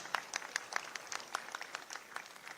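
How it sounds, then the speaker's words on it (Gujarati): Scattered clapping from an audience at a government ceremony in Gujarat, with uneven, separate claps rather than a full ovation, fairly faint and without talk. "અમે સૌ આપનો તાળીઓ સાથે આભાર વ્યક્ત કરીએ છીએ"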